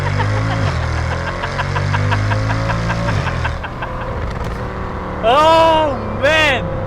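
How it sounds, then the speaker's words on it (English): A Mercedes-Benz CL63 AMG V8 pulls away on a rolling start, its engine a steady, loud rising drone with harmonics for a few seconds before easing off, followed by a voice talking over the tail end. "have a listen to that rolling start because I don't want it to spin its wheel"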